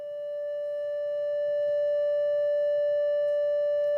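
A microwave receiver's loudspeaker gives a steady, pure electronic tone that swells in over the first moments and then holds constant, unbroken and fairly faint, with no voices present.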